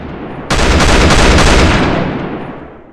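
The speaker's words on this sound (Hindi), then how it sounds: "तो ब्रिटिश पुलिस ने गोली चलाई।" A burst of gunfire, standing for British police shooting, erupts suddenly after a brief lead-in. It becomes a dense, loud rattle of rapid shots that slowly fades out.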